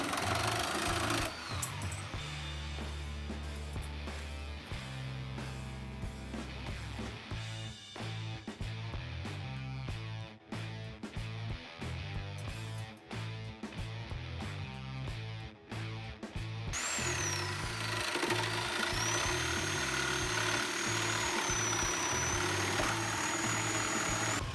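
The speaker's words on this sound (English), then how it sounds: "I cut the hinges to length with a sawzall after marking their layout." A sawzall cuts hinges to length: a close, continuous buzzing reciprocating drone runs throughout, with a stuttering choppy stretch in the middle and a higher steady whine near the end.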